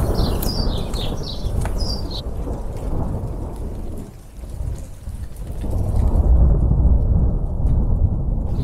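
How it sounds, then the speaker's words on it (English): Steady rain falls over a permaculture garden while thunder rolls deep and loud nearby, swelling toward the end, with a few bird chirps heard early on. "it's raining a little bit, but it's so annoying because there are thunderstorms everywhere around us"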